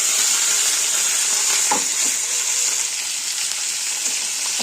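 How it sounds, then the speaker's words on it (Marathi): Hadga flower pods hit hot oil tempered with cumin, mustard seeds and curry leaves, giving a loud, steady sizzle with a few clicks of stirring close by. "आणि आता त्याच्यामध्ये ही शेंग टाकून घ्यायची आपल्याला"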